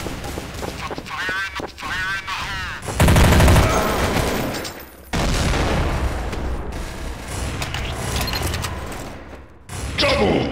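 MP5 submachine gun fire in Counter-Strike: Source on the de_dust2 map, loud rapid bursts with explosions and game announcer voices layered over a dense, continuous battle mix.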